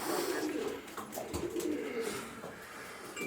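A racing pigeon coos softly in a few low, rolling phrases, close by and fairly quiet against a light background hiss.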